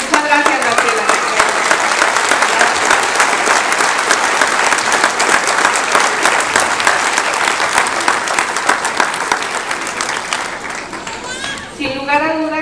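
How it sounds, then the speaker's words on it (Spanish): Loud, sustained applause from a crowd at a formal public ceremony honouring an engineer, dense clapping running steadily throughout and thinning slightly near the end. "otro fuerte aplauso para el ingeniero Graciela Mendares por su gran labor"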